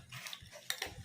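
Jaggery syrup being stirred in a kadai over high flame, a spoon scraping and clinking against the pan in a few quick strokes, close and fairly soft.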